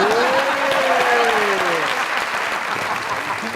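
A live comedy show audience breaks into steady applause, dense clapping throughout while a voice-like tone glides briefly in the opening seconds, fading slightly toward the end.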